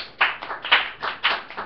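Hand claps from a church congregation, about four sharp, evenly spaced claps in under two seconds, close and fairly quiet with no talk over them.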